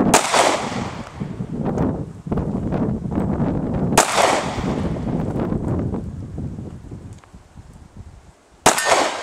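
Three loud gunshots ring out outdoors on Guam, spaced a few seconds apart, each sharp crack trailing into a long rumbling echo with wind noise between.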